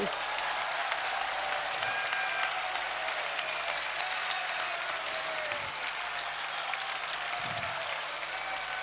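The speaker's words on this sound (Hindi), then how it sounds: "यदि आप लोगों को अच्छा लग रहा है तो ताली बजाइए।" A large gathering at a religious discourse claps in a sustained, dense roar of applause that fills the whole span evenly, with occasional low thumps beneath.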